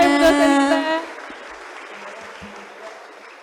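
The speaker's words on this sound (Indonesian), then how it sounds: "langsung boleh tepuk tangan ya teman-teman semuanya" New students clap at an Institut Teknologi Bandung welcome event, a burst of dense applause that quickly fades to scattered claps and a quiet room murmur.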